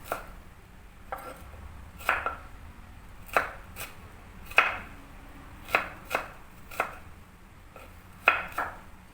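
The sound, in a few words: slicing onion with a knife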